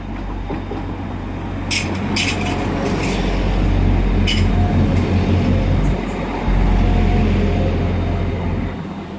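An Arriva Trains Wales service bound for Tenby rolls through Stockport station on the Manchester branch, a loud, steady diesel drone with low rumble, wheel clatter and brief metallic squeals, close by and alone.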